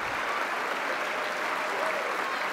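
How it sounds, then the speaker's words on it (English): An audience applauds at a speech, a dense, steady wash of clapping that holds at an even, fairly loud level for the whole stretch, with no voices rising above it. "I thank you for your applause"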